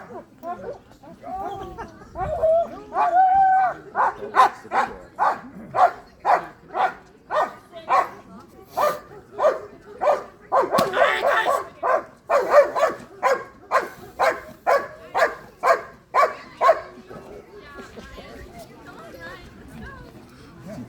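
German Shepherds in an IGP protection demonstration at a breed specialty bark in a long, rhythmic series of loud, close barks. A person talks over the barking and after it.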